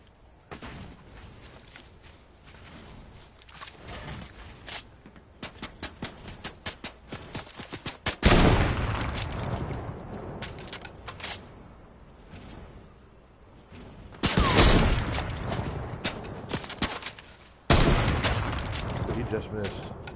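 Gunfire in a Fortnite match, rapid clusters of sharp shots and sustained bursts of fire swelling and fading over about twenty seconds, with louder heavy volleys midway and later, and a voice talking at times.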